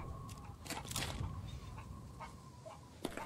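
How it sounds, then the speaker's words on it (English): Chickens cluck in a farmyard scene of the video game Resident Evil Village, several short clucks scattered at a moderate distance over steady ambient background. "I hear chickens."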